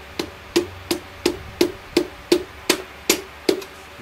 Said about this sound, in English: So I'm going to go ahead and tap this in now.